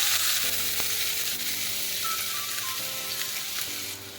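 Garlic sizzles in heated oil while sautéing for a tomato and basil arrabbiata pasta sauce, a dense, continuous frying hiss, close and steady throughout with no voices.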